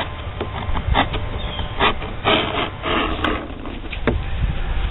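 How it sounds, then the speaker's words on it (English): Edging tool shaving the edge of a handmade knife's handle, a series of short scraping rubs with a dry, rasping texture, close and fairly loud, repeated in uneven strokes over a low background hum. "Use this edging tool and just take off a little bit on the edge"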